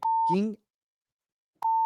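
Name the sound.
censor bleep over a swear word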